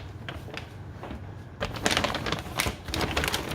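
Stitches being sewn by hand or machine through two layers of plastic window joined into a hood, heard as a series of soft punching clicks. The clicks get louder and denser partway through, with no talking.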